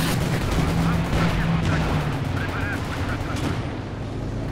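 Rocket artillery fire in Company of Heroes 2 during a 4v4 match, a dense barrage of booming launches and impacts rolling continuously under other battle noise, with players' voices talking over it.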